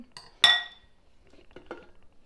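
A stand mixer beater is lifted and tapped against the side of a bowl of banana nut bread batter, giving one bright ringing clink followed by two softer knocks in a quiet kitchen.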